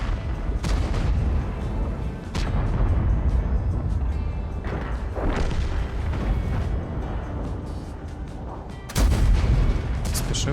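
Heavy cannon blasts from a Chieftain Mk.6 heavy tank in World of Tanks boom repeatedly over a constant rumbling background, several loud shots spaced a few seconds apart, close and powerful.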